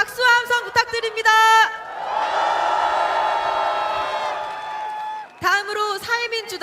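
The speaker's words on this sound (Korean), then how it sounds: "다시 한번 뜨거운 박수와 함성 부탁드립니다." A rally crowd erupts into loud, dense applause and cheering that holds for about three and a half seconds, bracketed by someone speaking over a public address system before and after.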